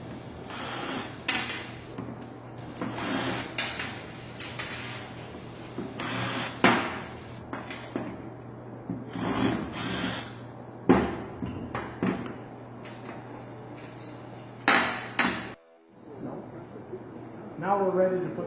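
Four bolts come off the bottom of a machine in repeated short bursts of ratcheting, clicking metal, each lasting about a second, separated by quiet pauses and handling noises.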